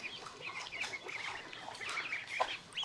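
Chicks peeping and clucking in a brooder while the bedding is cleaned out, soft overlapping chirps from several birds, fairly faint and close.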